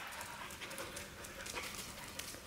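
Several dogs, four siblings sharing the same father, pant steadily and close up, a continuous breathy rhythm with no talking.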